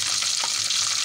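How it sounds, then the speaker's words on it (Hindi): Eggplant frying in hot oil in a kadai gives a steady, close hiss of sizzle that stays fairly even throughout, with a faint scrape partway and no voices. "इसको हर साइड से हल्का हल्का फ्राई करना है।"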